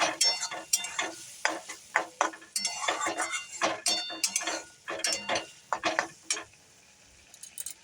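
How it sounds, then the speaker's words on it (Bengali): Okra with sour yogurt is stirred in a pan, a close, rhythmic series of scraping strokes and clinks from the utensil against the pan, with a light sizzle underneath. "টক দই দিয়ে এবার আমি তাকে নাড়ছি"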